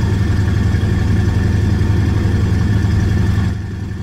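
A Bulldog autogyro's engine runs steadily up close, a loud, even droning hum with a deep throb that drops slightly in level near the end.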